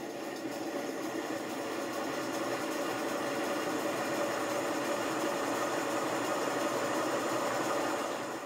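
A 5 inch gauge GWR 14XX model steam locomotive runs steadily with a continuous mechanical hum and faint rhythmic chuffing, moderately loud and unbroken, with no voices.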